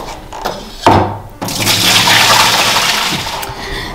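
Water used for soaking feet is poured out of a bowl, a loud continuous rushing splash lasting a few seconds after some brief sloshing.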